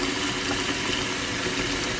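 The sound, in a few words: running water washing the harvested produce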